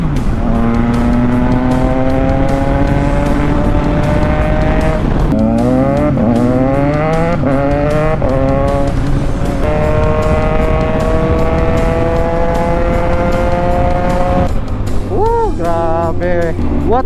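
A Triumph Tiger Sport 660 motorcycle fitted with an SC Project exhaust is ridden hard, its engine note rising and falling through gear changes, loud and close throughout, with wind rush and a voice talking over it.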